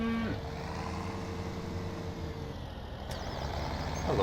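A cow moos in the video game Farming Simulator 2017, a short low call at the very start, followed by a steady vehicle engine drone and a brief hiss like an air brake.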